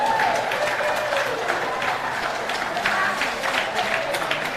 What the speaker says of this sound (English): And that applause you can hear is for the local in the ladies that has just got over the junior, Olivia Cartwright